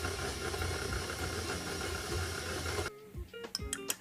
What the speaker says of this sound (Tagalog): we will cream this butter and sugar